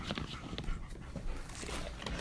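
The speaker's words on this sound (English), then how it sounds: "You have made some dogs very happy." Several dogs pant while playing with new toys, quick breathy rhythmic huffs heard close up with faint scuffling and a soft whimper, no talking.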